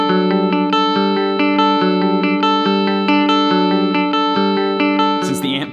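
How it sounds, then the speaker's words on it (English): A full-size electric guitar plays through a tiny trash can amp, strumming a rhythmic pattern of chords in a loud, continuous, effect-laden tone. It ends with a burst of noisy scraping. "Let's take this same little trash can amp and plug in a full-size guitar."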